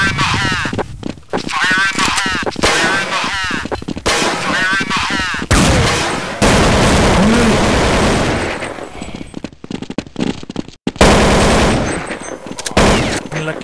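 Rapid automatic gunfire and shots from Counter-Strike 1.6 on the Inferno map, loud and sustained through most of the stretch with brief pauses, while a player talks over it.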